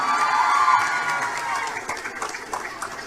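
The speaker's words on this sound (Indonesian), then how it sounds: "Tepuk tangan untuk Nikita Mirzani." A crowd of students at an Islamic boarding school event cheers and claps for Nikita Mirzani, a loud burst of shouting and whooping with scattered applause, heard at a moderate distance.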